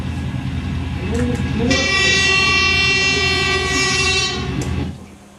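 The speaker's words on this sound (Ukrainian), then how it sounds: "наближається потяг, так?" A train draws closer with a rising rumble, then sounds a long, loud horn blast that holds for a few seconds before cutting off.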